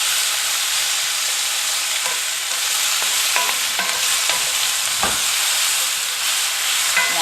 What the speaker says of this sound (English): we're going to just stir these veggies around a little bit.